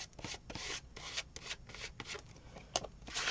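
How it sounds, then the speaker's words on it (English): Leftover paint is scraped across a surface in short, repeated rough strokes, a quiet rasping rub with brief pauses between passes. "Scraping it as much as I can."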